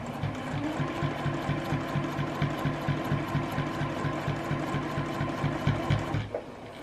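Sewing machine stitching fabric for an advent calendar runs at a steady, even pace with a fast repetitive needle thump, close and continuous, then slows and stops near the end.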